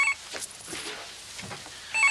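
A telephone bell rings in a short burst at the start and again at the end, with a quiet gap of room noise between and no talk.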